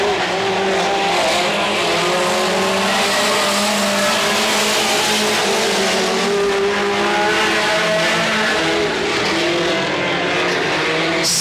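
Mini Stock race cars, Pintos among them, racing at Petaluma Speedway: loud, continuous engine roar with tire squeal and revving as the cars pass close, steady and dense throughout with no break.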